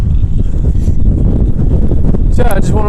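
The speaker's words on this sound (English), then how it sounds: "It's real windy." Strong gusting wind roars into the microphone on open ground by marshes, a steady low rumble throughout, with a brief brighter rustle near the end.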